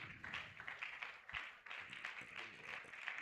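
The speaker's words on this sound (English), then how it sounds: "A round of applause for the Deputy Vice Chancellor. Continue clapping on she gets to the stage, please." An audience at a university International Women's Day event applauds the Deputy Vice Chancellor, a faint, steady patter of many hands clapping continuously, as if heard from a distance.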